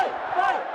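A crowd of about 25,000 at a Trump event in the Milwaukee Bucks' NBA arena lets out a brief, loud roar of massed cheering and shouting, dense and reverberant and lasting under a second.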